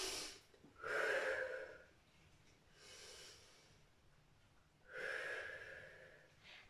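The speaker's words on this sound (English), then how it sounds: "Take a deep breath in." Deep breaths in and out during a seated mobility and strength workout for older adults, three or four slow airy breathing swells with quiet pauses between, close and clear, no talk.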